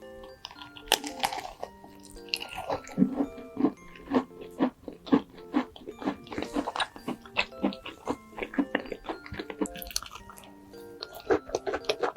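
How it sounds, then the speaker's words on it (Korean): Close, quiet bites and chewing of a green tea macaron, soft crunches and squishy mouth sounds repeating in an uneven rhythm, with no talk. "마카롱 먹방 녹차 마카롱"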